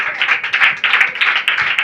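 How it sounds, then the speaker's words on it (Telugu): A church congregation claps together during a pastor's sermon, a dense run of hand claps in loose rhythm that carries steadily through the whole stretch and comes close and loud. "చప్పట్లు కొట్టాల"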